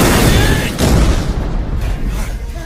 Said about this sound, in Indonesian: memutuskan meledakkan terowongan saluran pipa gas milik perusahaan Bridges yang sebelumnya sudah dipasangi bahan peledak